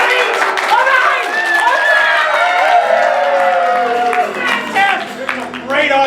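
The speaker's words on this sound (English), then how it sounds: "what does a 1 sound like when it comes to your applause?" Improv comedy audience at a small Chicago lounge clapping and cheering, a lively burst of applause with shouts and whoops over it, close and loud, swelling and dipping.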